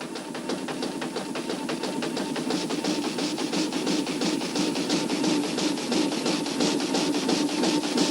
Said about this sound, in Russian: звон пилы привел нас сюда